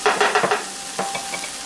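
Chopped onion goes into a hot pan for a shrimp pot pie filling. A few quick scraping, stirring strokes come first, then a soft, steady sizzle follows, close by.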